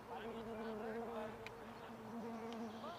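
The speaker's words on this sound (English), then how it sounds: "You can hear bees flying around the microphones." Bees buzz around microphones at an outdoor T10 cricket match in Milan, a faint, wavering drone drifting near and away over quiet background murmur.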